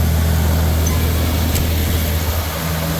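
An old tractor's heavy engine rumbles steadily at a low idle, loud and close, with a constant mechanical drone throughout.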